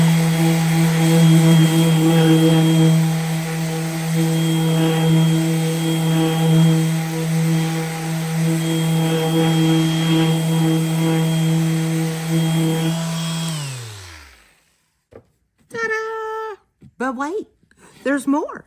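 A power sander with 80 grit sandpaper smoothing the top of a board, running as a loud, steady motor drone that winds down and stops near the end, followed by a few brief, separate noises.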